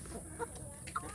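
Free-range village hens on a farm raising native chickens, cluck faintly during their laying period, giving two soft, brief calls over a quiet background.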